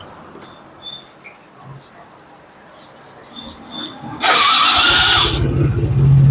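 A first-generation Yamaha Nmax scooter is started using a test starter motor. After a few faint taps and clicks, the starter cuts in with a sudden loud whir, and the engine catches into a steady, close idle.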